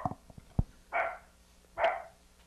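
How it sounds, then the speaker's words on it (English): A single dog gives a few short, sharp barks with pauses between them, faint and slightly distant against a quiet background. "What kind of dog is that?"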